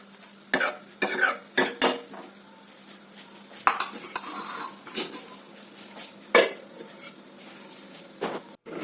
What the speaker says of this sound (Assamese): এতিয়া মই সিজিবৰ বাবে আকৌ ঢাকনিখন লগাই দিম।